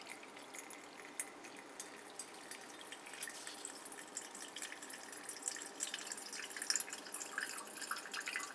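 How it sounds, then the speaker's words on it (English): During filtration of a cobalt complex mixture, liquid drips and trickles in a faint, steady patter, soft and continuous with small splashy drops, no voices present. "we can go ahead and filter the mixture to get our final product"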